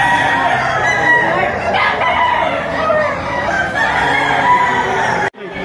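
A rooster at a busy chicken market gives a loud, close, drawn-out crow with clucking mixed in, then the sound cuts off abruptly near the end.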